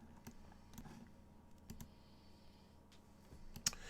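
Several sharp computer mouse clicks, spaced irregularly and fairly faint, sound against a quiet room with a low background hum and no talking.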